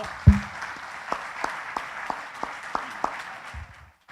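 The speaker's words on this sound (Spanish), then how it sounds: "vamos a dar un aplauso por ellas" Scattered, sparse claps from a church congregation ring out at a fairly steady rhythm after one loud opening hit. The clapping is moderately faint and fades at the end.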